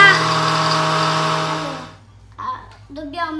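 A food processor runs at top speed blending pistachio cream, whirring with a loud steady motor whine that winds down and stops, after which a voice speaks.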